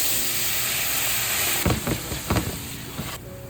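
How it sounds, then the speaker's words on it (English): After fish is fried in butter, white wine hits the hot pan, giving a steady loud hiss that breaks into a few sharp bursts of sputtering and steam before it cuts off. "then deglaze with white wine."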